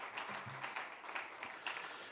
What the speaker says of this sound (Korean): 우리 함께 여기에 모인 우리 모두를 향해서 또 주님께 우리 박수 한번 해보도록 하겠습니다